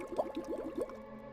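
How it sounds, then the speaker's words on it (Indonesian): Floodwater pooled in a living room under a leaking roof gives a few close, soft gurgling glugs and drips in quick succession, then fades to quiet. "Hanya ada suara tetesan air dari atap yang bocor dan bunyi gluk-gluk dari air yang menggenang di ruang tamu."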